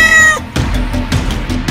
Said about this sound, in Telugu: అది ఒక పిల్లి.